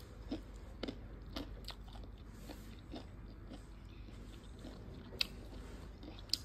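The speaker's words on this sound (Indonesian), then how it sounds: "Untuk ayamnya ini dijamin kriuk banget." Crunchy fried chicken gets bitten several times, each bite a crisp, close crunch, quiet and spaced out with brief chewing between.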